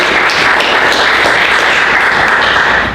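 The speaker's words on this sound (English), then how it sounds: "let's just give a round of applause" Audience applause at a team meeting, a dense, steady wash of many hands clapping close by for the full stretch, with no talk over it.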